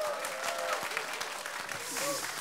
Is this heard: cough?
no